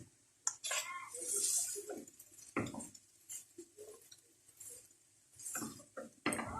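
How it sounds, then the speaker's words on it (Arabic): Large spoonfuls of ready-made tomato sauce go into a cooking pot with scattered clinks and scrapes of a metal spoon against the pot, short irregular knocks separated by quiet gaps. "هنزل على العصاج بتاعي بمعلقتين كبار من صلصه الطماطم"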